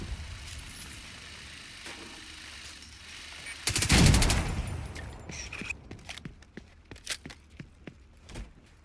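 Gunfire in The Division 2 video game: a dense roaring burst of shots and explosion-like noise in the middle, then a string of separate sharp cracks of varying loudness over a low background rumble.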